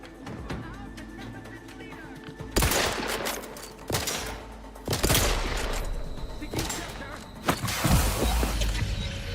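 Gunfire in the Outer Worlds 2 game bursts out in several loud, sharp volleys, spaced a couple of seconds apart over a quieter game background.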